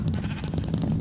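A blocky Minecraft sheep on a Mineplex server gives a brief, near bleat, fairly loud, with a voice speaking underneath.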